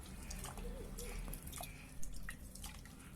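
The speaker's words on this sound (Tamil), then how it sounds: "தண்ணியில் நல்லா நெழுக நல்லா கரைச்சிக்கிங்க." Tamarind squeezed and dissolved by hand in a bowl of water for rasam, quiet wet squelches and drips in irregular bursts, close and faint.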